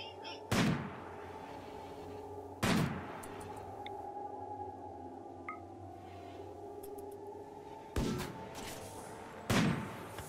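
Gunfire in the Rimworld video game aimed at a centipede: four sharp, loud shots spaced a few seconds apart, separated by a steady hum of background game ambience.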